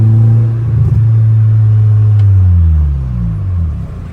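A car engine rumbles close and loud as the accelerator is pressed, its low drone rising in pitch through gears, then easing slightly near the end, with no talking.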